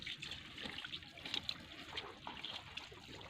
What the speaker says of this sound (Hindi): देखिए पानी फेंक रही है मोटर